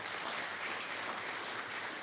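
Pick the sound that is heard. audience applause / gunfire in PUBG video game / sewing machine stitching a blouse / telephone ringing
audience applause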